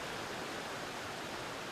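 Steady, dense rush of a waterfall seen from a wooden bridge over a creek near the base of the falls in a park, a constant broadband roar with no breaks, moderately loud and with no voices.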